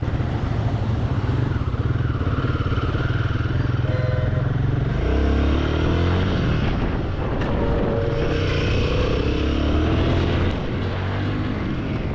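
A Royal Enfield Guerrilla 450 motorcycle riding in first gear, its engine droning loud and steady throughout with a rising and falling pitch as the rider works the throttle.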